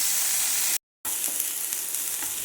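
Chopped onion fries in a pan with a bright, steady sizzle as it is stirred, broken by a brief moment of total silence before the close hiss and soft stirring scrapes resume.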